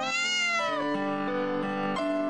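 A young stray kitten meowing loudly and persistently, a long drawn-out wavering cry up close with no talk over it.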